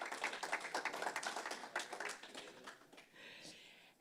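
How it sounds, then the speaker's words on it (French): Brief, light applause from a small audience at a roundtable event, a few seconds of scattered clapping that thins out and fades. "Et on peut effectivement les applaudir."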